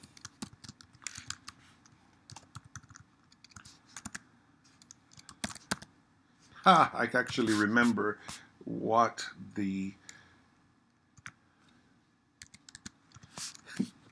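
Clicky keystrokes from a computer keyboard as contact information is typed into a dental patient information chart, scattered taps throughout with a stretch of speech in the middle partly over them.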